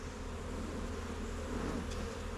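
Honeybees swarm close around an open hive, their dense, continuous buzzing filling the air at steady loudness throughout, with no voices.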